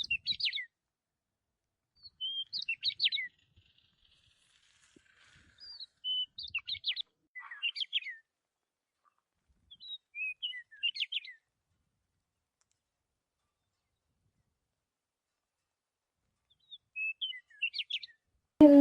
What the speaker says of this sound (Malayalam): കിളികളുടെ സൗണ്ട് കേൾക്കാം